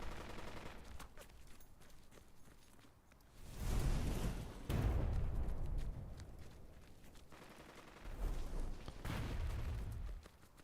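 Artillery shells a town in the war strategy game Burden of Command, with two heavy clusters of rumbling blasts and rattling fire rising above a quieter background of scattered distant shots. No one speaks.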